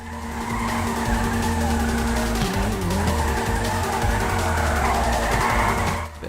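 Tires skid and squeal steadily as a widebody Futo GT hatch is drifted on the handbrake in GTA 5, a continuous loud screech over engine drone that holds for about six seconds before cutting off.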